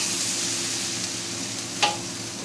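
Rice cooked in vegetable oil sizzles in a pan with a continuous frying hiss, and a single scrape of stirring lands near the end.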